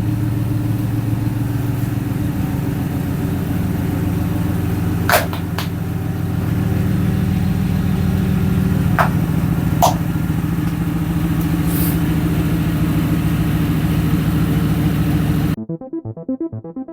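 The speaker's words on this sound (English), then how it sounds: "We'll go ahead and pull the truck back in" A truck's engine runs at a steady idle as the vehicle is pulled back into position on a cold day, a continuous low rumble with a few brief sharp clicks or knocks over it, ending abruptly.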